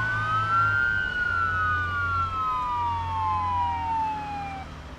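Police sirens in the video game Arma 3 Altis Life wail in long, slowly falling tones over a steady low vehicle engine rumble, loud and continuous with no talking.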